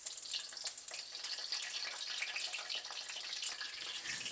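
Sliced eggplant frying in hot oil in a pan gives a steady, moderately quiet crackling sizzle with bright spitting bursts, continuous and alone with no talk.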